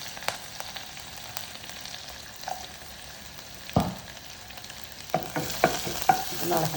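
Ginger and green chili stir-fried in sunflower oil for rava upma: low steady sizzle broken by scraping spatula strokes, a sharper clatter, then several quick stirring knocks near the end.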